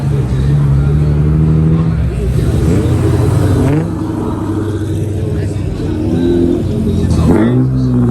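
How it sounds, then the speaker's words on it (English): A Dodge Hellcat revs as it pulls out of a busy car meet, loud rumbling engine rising and falling in bursts over crowd chatter and other passing cars. "We got another Hellcat on the way out."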